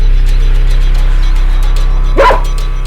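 A dog gives a single short bark near the end, set against a loud, steady low hum that runs throughout the scene from a Hindi film.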